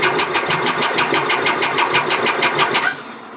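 A Triumph Daytona T595 motorcycle cranks on its starter, a rapid, even chugging of about four beats per second that stays loud and close for nearly three seconds, then drops away without catching.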